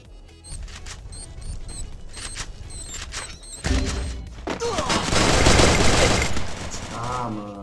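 Gunfire rattles in the mobile shooter game Free Fire, played on the BlueStacks emulator: scattered sharp shots give way to a dense, loud barrage of rapid automatic fire and crashing impacts.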